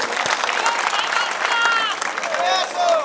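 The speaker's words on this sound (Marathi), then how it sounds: "एकदा टाळ्या वाजवा" A rally crowd in Rajur applauds Dhananjay Munde with loud, dense, sustained clapping, mixed with cheers and whistles and voices calling out.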